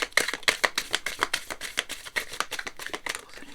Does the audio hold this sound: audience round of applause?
no